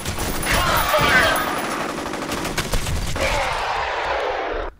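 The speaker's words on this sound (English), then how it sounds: "I'm being shot at by all sides." Dense gunfire erupts from all sides during a firefight in the F.E.A.R. video game, a loud, continuous barrage of overlapping shots and bursts that fills nearly five seconds before cutting off abruptly.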